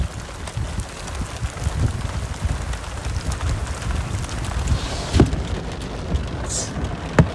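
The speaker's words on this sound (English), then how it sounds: "This messy rain is screwing with me." Messy storm rain during a tornado-threat chase in Illinois/Wisconsin: steady patter and wash of rain with low rumbling, a couple of sharper impacts near the end, and no talking.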